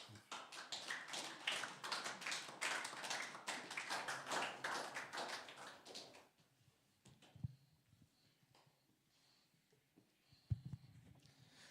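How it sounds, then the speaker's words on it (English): Church congregation at a Sunday service clapping together, a dense burst of many hands for about six seconds that stops abruptly, followed by near silence with a couple of faint knocks. "give a clap"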